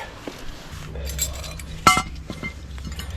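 Small metal brake hardware clips for a Chevy truck rear brake job clink and jangle lightly as they are handled, with one sharper metallic clatter midway over a low background hum.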